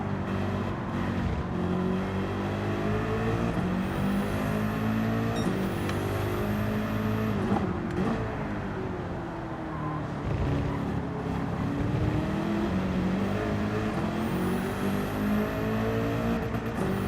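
Race car engines in Gran Turismo 7 during an online lobby race, a loud continuous drone with rising and falling revs and gear changes, other cars whirring nearby.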